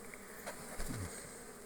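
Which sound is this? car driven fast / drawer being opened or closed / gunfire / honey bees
honey bees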